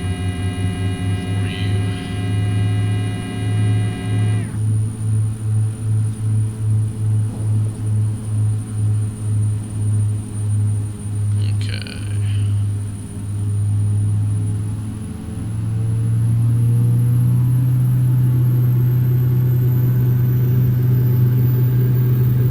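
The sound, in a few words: Carenado Cessna 406 max performance takeoff in Prepar3D video game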